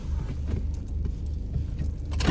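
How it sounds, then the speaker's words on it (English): Car engine idling low and steady before being switched off, with brief metallic key jangles and small clicks near the end. "turn my car off"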